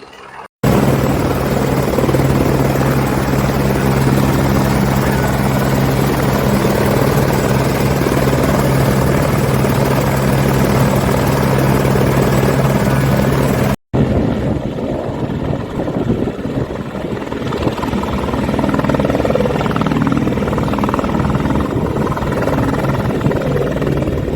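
A subsidised helicopter service flies in Rajouri, serving remote areas: a loud, steady rotor and engine drone runs close and continuous, broken by a brief cut near the middle before it resumes with more wind buffeting.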